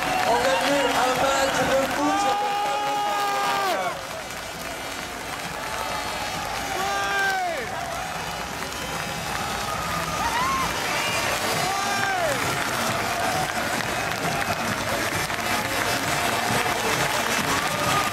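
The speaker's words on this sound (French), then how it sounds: "Le match s'arrête et on peut applaudir ces deux équipes." An audience applauds and cheers two robotics teams at the end of a final match between RCVA and Microb Technology, with clapping and crowd noise under a commentator speaking in French.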